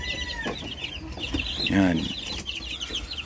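Backyard chicks cheep in their coop with high, thin chirps scattered over the whole stretch, plus a louder clucking call near the middle; a person speaks briefly.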